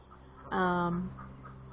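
A red hen gives one short, nasal, drawn-out cluck close by in a cold winter homestead setting, with quiet background noise before and after.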